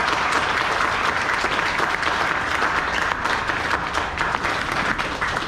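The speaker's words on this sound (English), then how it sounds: "I think we should give them a clap, actually," Warm, continuous applause at a memorial service as mourners clap for the family seated in the front row, a dense even patter of many hands held at a steady level.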